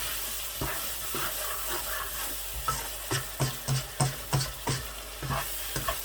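Chicken being stirred with salt, chili, turmeric, coriander powder and black pepper in an oily pan: a soft sizzle under a run of rhythmic scraping stir strokes that grow louder and more regular toward the end.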